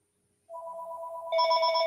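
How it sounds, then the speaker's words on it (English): A phone rings with a spam call, an electronic ringtone starting after a short silence with a two-tone chime, then brightening into a louder, higher melodic pattern, close and alone. "How's my phone? Probably spam. Yep, spam risk."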